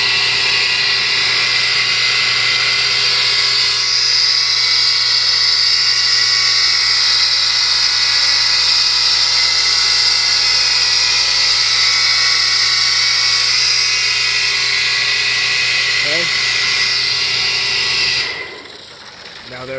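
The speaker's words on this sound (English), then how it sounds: "it's screaming super loud because the bearings need to be replaced" A loud, steady high-pitched mechanical scream from a running hot tub jet pump with worn bearings, droning continuously without change before cutting off near the end.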